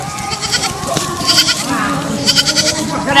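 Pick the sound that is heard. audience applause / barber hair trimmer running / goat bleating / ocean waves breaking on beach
goat bleating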